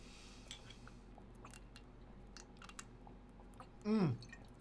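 A person drinks water in a quiet room with faint background noise and small scattered clicks, then one short, close gulp near the end.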